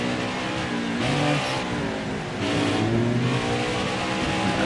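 Onboard race car engine at Canadian Tire Motorsport Park revs hard out of a turn, climbing in pitch, dipping briefly as it shifts into third, then pulling again, loud and continuous throughout.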